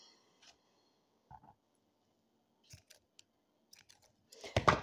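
A few brief, crisp snips of scissors cutting kraft paper, scattered across a quiet background, with a louder rustle at the end.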